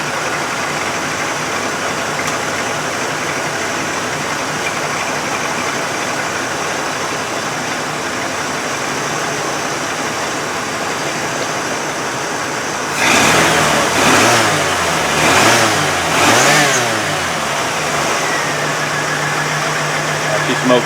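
A 1988 Lincoln Town Car engine fires up on its first start after a steady background hum, then revs loudly in several rising bursts before settling toward idle.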